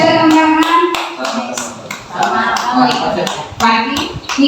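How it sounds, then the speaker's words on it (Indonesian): Audience clapping hands at a school gathering, a burst of claps under a voice, with someone talking over the applause. "Tepuk tangan dulu untuk Pak Aziz."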